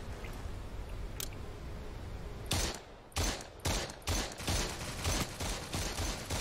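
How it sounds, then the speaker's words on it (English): Gunfire in the battle royale game Proxima Royale, a series of about seven evenly paced, punchy single shots ringing out close after a quiet stretch. "Let's see how far I can shoot."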